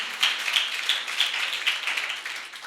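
Audience clapping at a Hindi-Urdu speaking television anniversary gathering, a steady patter of hands from a modest crowd, fairly faint and sustained.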